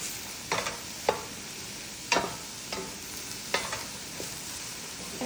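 Chicken and onion sizzle in a hot pan under a low, steady fry, with sharp scrapes and clacks of stirring recurring every second or so.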